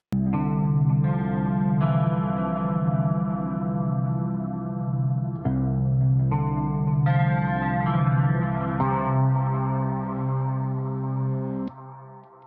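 Clean electric guitar through a Tonex ENGL amp model with a shimmering chorus effect, playing sustained chords that change every couple of seconds, loud and alone, ending on a held chord.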